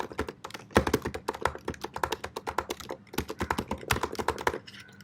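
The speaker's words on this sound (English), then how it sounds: "this is how it sounds like when you type on the keyboard" Fingers type on a laptop keyboard, picked up by the laptop's built-in microphone: a close, steady run of irregular plastic key clacks and taps lasting several seconds, with a brief pause near the end.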